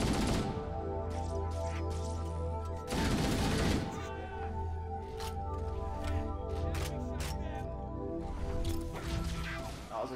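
Gunfire from a weapon in the video game Halo, rapid bursts of shots with sharp cracks and a heavy burst near the start, running almost continuously over game sound and music.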